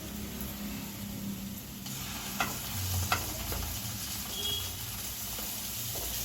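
Ginger and garlic hit golden-fried onions in a pan, and a moderate hissing sizzle runs steadily while a spatula stirs and scrapes in a few sharp knocks, no speech.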